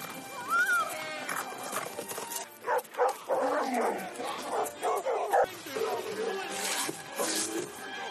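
In an animated film, Merida gallops hard on horseback, with rhythmic hoofbeats, a brief whinny and mixed animal noises running under a narrating voice.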